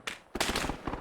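Bursts of incoming gunfire during a military reenactment arrive as quick, crackling volleys of several shots, loud and separated by short gaps.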